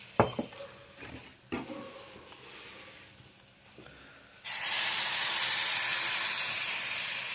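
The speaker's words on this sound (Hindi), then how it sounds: "दो गिलास इसमें मैं दूध डाल रही हूँ।" Two glasses of milk poured into a hot cooking pan for a homemade cold-and-cough remedy drink: a few light clinks and scrapes, then an abrupt, loud, sustained sizzling hiss that continues to the end.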